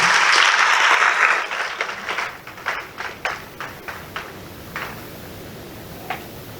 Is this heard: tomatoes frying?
no